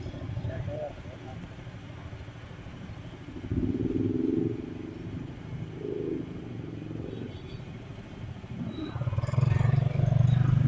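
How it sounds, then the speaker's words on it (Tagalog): Motorcycles passing on a road in the Philippines, heard as faint engine rumbles that swell and fade, with a louder pass near the end and some voices around. "Dami rin motor dito sa Pilipinas"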